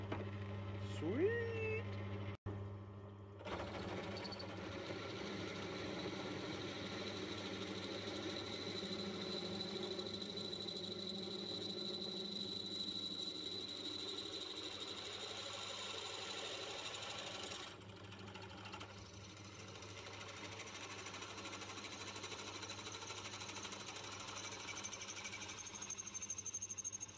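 A hand drill runs steadily while boring into a trailer winch handle, a continuous whirring motor drone near and fairly loud, starting after a short pause and holding a constant speed with a brief dip partway through.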